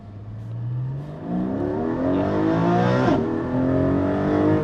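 A Porsche 718 Cayman GT4 with a PDK gearbox revs loud and close as the engine climbs through the gears, its pitch rising steadily and then dropping briefly at a quick upshift before building again, with no talking.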